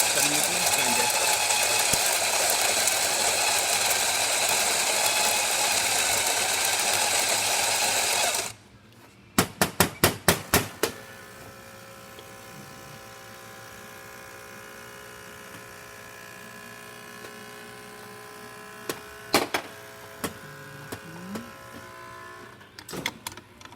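A Riviera coffee grinder runs during a tune-up test with a loud, steady buzzing drone for about eight seconds, then cuts off, leaving a quieter room with scattered sharp clicks and knocks.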